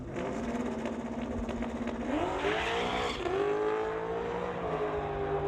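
An LS-powered 1989 Fox-body Mustang drag races down the track, its engine rising in pitch through a gear change, loud and somewhat distant over crowd ambience.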